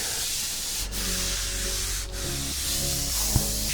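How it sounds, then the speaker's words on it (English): A hand rubs steadily over a smoothed BMW E46 M3 body panel, making a continuous, close, loud hissing swish with slight shifts in pressure and one short knock near the end. "Rub your hand over everything"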